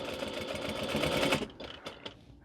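A sewing machine runs steadily while stitching an adult-sized minky blanket, a loud fast mechanical whir that stops abruptly partway through, leaving a few soft clicks and handling noises.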